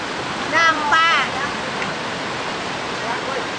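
A river rushes at the fourth crossing on the trail to Madakaripura waterfall in Indonesia. The steady, loud hiss of flowing water fills the clip, and a voice speaks briefly near the start.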